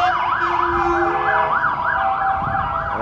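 A Polish fire brigade vehicle's siren wails loud and close, its rising and falling two-tone sweep cycling steadily and alone with no talk over it.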